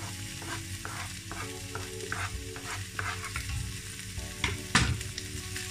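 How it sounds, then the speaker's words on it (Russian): Sweet peppers, green onion and chicken frying in a pan, giving a steady sizzle with repeated stirring scrapes and clatters throughout, close and fairly quiet. "Еще через минутку я добавляю нарезанный сладкий стручковый перец и зеленый лук."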